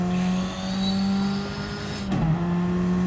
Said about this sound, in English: The turbo kicking in